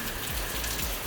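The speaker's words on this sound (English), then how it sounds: "I love a good run in the rain as much as the next person, but not when it's this cold right now." Cold rain falls steadily outdoors, a dense, even hiss of drops hitting surfaces, soft and continuous with no voices.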